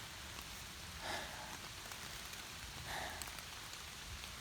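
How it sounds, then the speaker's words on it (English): Rain falls steadily with a soft, hissing patter on a surface along a closed road, heard alone and fairly quiet, with a couple of slightly louder drip-like bursts. "I think I might set up my tent because it's raining right now."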